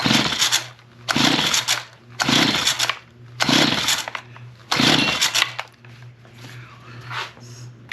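A small two-stroke engine is pull-started repeatedly, with five loud rasping pulls of the starter cord in a steady rhythm that fail to catch, heard up close, followed by quieter handling sounds.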